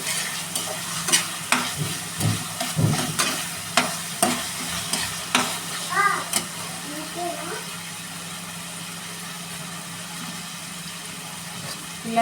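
Ginger garlic paste frying and being stirred in a pan, a steady sizzle with scraping stir strokes, moderately close under a constant background hum, with no talking.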